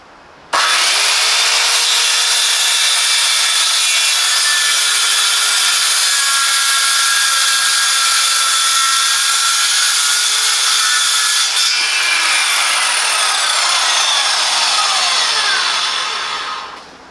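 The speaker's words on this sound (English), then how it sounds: "I'm sure it can cut any type of wood. I can't wait to test it." A HYCHIKA 1300W electric circular saw cuts through wood in one long, loud, steady pass, its high whine and rasp running unbroken to a brief tail-off at the end.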